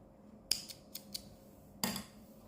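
Scissors snip through yarn during a small crochet project, giving a few sharp, close cuts: one crisp snip, two lighter clicks, then a final louder cut, each brief against a quiet room.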